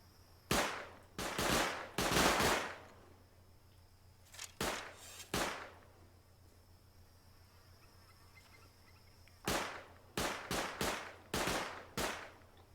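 Gunfire in the survival game Rust: several separate bursts of loud, sharp shots, a few rapid volleys early, two lone shots mid-clip after a pause, then a tight cluster of quick repeated shots near the end, over a steady low background hum.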